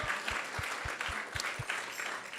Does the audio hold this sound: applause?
yes